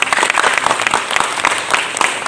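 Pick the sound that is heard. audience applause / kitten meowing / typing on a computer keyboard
audience applause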